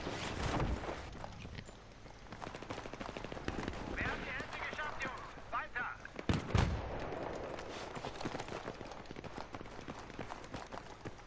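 Rapid bursts of gunfire crackle amid footsteps and game sounds in Battlefield 3 multiplayer, with someone talking over the action in Swiss German.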